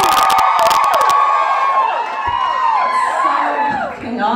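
A live audience at a small New Orleans poetry show cheers and whoops loudly and continuously, a dense crowd roar with shrill individual shouts rising over it before easing slightly near the end.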